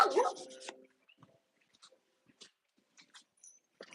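A dog named Olive gives a loud close bark at the start, then quieter scattered whimpers and small grumbles follow in a quiet room.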